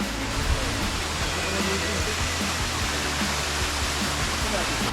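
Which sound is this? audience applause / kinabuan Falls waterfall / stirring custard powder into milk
kinabuan Falls waterfall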